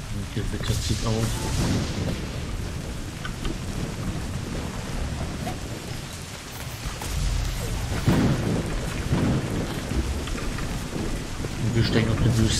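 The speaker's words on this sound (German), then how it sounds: "Ein Gewitter zieht auf." Heavy rain falls continuously in a thunderstorm in the video game Kena: Bridge of Spirits, with rolling thunder booms rumbling through the dense downpour, loud and steady throughout.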